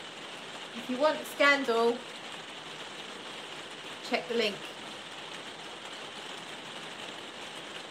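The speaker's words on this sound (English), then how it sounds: "It's noisy here. This rain is crazy." Heavy rain pours outside during a live stream, a constant mid-level hiss and patter underneath two short bursts of someone talking.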